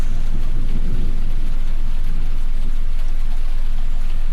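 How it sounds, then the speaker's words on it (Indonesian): Steady, dense rain pattering on roof tiles, a loud continuous hiss with no voices, unchanging throughout. "Ditambah suara hujan yang bergemericik di genting"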